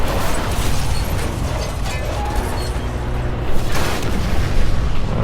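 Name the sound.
video game explosion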